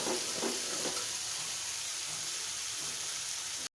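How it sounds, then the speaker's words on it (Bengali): Rohu fish fries in a pan with a steady, fairly loud sizzle and a few brief crackles near the start. The sound cuts off abruptly at the very end. "মাছটাকে আগে ভেজে নিই।"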